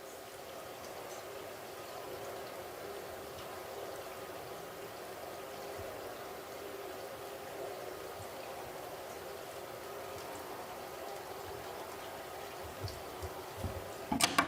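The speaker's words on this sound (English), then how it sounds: "is that water running?" Water running or rain in a played recording, a faint continuous hiss like a steady stream or rainfall, even throughout with a few soft clicks and knocks near the end.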